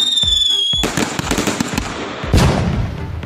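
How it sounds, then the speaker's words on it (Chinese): A firecracker bursts inside a bottle after a fizzing fuse whistle, giving a sharp crackling blast with scattered pops and a second burst a moment later, loud and close. "把炮扔进瓶子里炸着玩"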